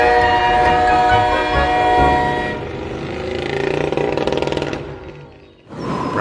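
An HO scale model freight train rushes past with a loud horn-like tonal blast, then rumbles and clatters before fading, followed by a short burst of sound at the end.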